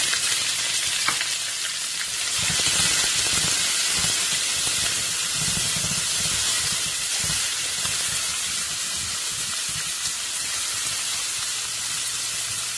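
Steady loud sizzling of onions in hot oil before dandelion leaves are added, a dense crackling hiss running continuously with occasional stirring scrapes, no voices.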